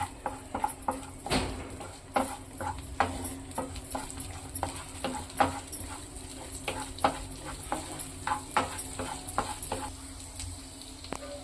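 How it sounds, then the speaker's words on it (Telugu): Chopped cashews and almonds fry in ghee with grated bottle gourd for a payasam, giving a steady low sizzle broken by frequent sharp clicks of a utensil stirring against the pan. "అందులోనే ఇంకొద్దిగా నెయ్యినైతే యాడ్ చేసుకుని కాజు బాదంని చిన్న ముక్కలుగా కట్ చేసుకుని ఫ్రై చేసుకుని అందులో వేసుకుందాం"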